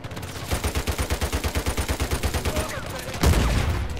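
Rapid rifle gunfire in the video game Uncharted 4, a steady burst of about fifteen evenly spaced loud shots over three seconds, then a heavier blast or impact at the end.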